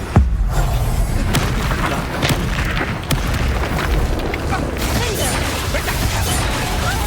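Bombarda spell blasts in Hogwarts Legacy land amid continuous combat noise, sharp crashing impacts near the start and around the middle, while a character voice talks over the fighting.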